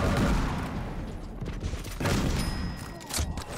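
Shotgun blasts and close combat in a fast arena shooter match, a few sharp bursts over a busy layer of game action, heard without talk.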